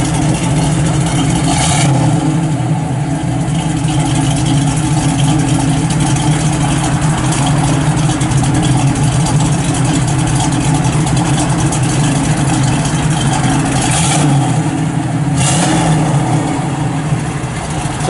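A 1970 Chevrolet Camaro RS Z28 engine idles loudly and steadily up close, a deep continuous rumble with a couple of brief shifts in tone.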